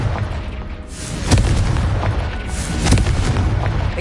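Confringo fire spell blasts in Hogwarts Legacy on PS5, two heavy booming explosions roughly a second and a half apart, loud and close over a rumbling low wash, with no voices.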